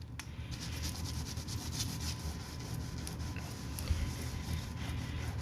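Steady soft rubbing on a wood plank floor as a spot is scrubbed clean, a continuous low scuffing texture with a few faint clicks, close by and with no talking.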